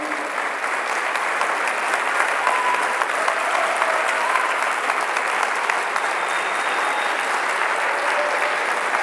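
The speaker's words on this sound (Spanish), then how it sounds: "Si vas a aplaudir la vida, aplaudilo más fuerte" Sustained audience applause at a bioethics, health and life conference in San Juan, a dense, even wash of many hands clapping that holds steady throughout, filling the hall with no voices over it.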